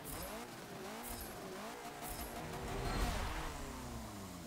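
A KTM car in Forza Motorsport 7 accelerates hard, its engine revving up through rising pitch sweeps with a brief gear change, a steady, fairly quiet motor drone building toward a louder peak near the end.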